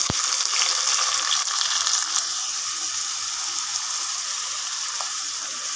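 Large onions frying in ghee and oil for chicken biryani, with a continuous bright hiss of sizzling fat that starts with a sharp clatter and then holds steady and fairly loud throughout, alone.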